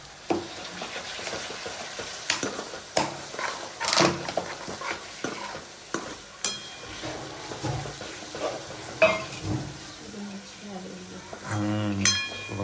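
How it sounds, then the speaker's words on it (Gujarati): Food stirred in a pan while cooking a milk-based Gujarati shaak, close scraping and clinking of a spoon against the pan over soft sizzling, with sharp clinks, and a voice speaking briefly near the end. "મિક્સ કરું."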